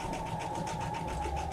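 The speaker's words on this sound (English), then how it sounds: "I'm just going to come down here and I'm going to stitch down this line" A sewing machine stitches a line across a quilt, giving a steady close-up whir with fast rhythmic needle pulses and no voices.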